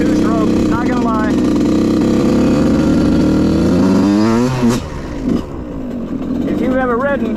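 A two-stroke dirt bike engine out on a trail, a loud buzzing drone that rises and falls in pitch through several revs and eases off briefly before picking up again, with voices talking over it.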